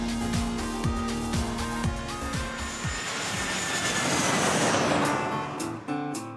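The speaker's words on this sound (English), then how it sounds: "After an 11-hour flight, the teens land in Seattle" A jet airliner lands after an 11-hour flight to Seattle, a loud engine roar with a descending whine and broad rushing noise, heard from inside the cabin and fading toward the end, with no talk.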